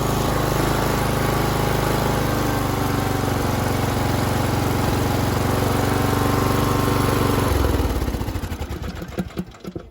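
A John Deere LA110 lawn tractor with a 19.5 hp Briggs engine and a replacement aftermarket carburetor runs close and loud at a steady drone, then sputters and dies away over the last two seconds.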